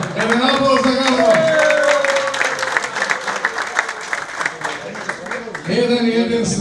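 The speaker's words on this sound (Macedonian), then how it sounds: "Еден аплауз за Гавро." An audience at a reunion of generations of the Teteks football club in Tetovo claps for Gavro, a steady burst of applause with a voice talking over it before the clapping thins and speech resumes.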